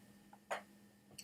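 A single short, muffled cough from a man, faint and close, in an otherwise quiet room.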